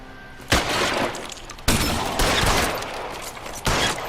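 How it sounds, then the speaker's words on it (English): Loud, close gunshots in the video game L.A. Noire, several abrupt blasts each followed by a lingering roar of game noise. "I shot you 3 times in the chest"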